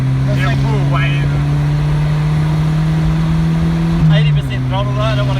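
A turbocharged Nissan Silvia S12 with a CA20E engine revs under partial throttle, a loud steady drone held for about four seconds before dropping and settling, with people talking faintly over it.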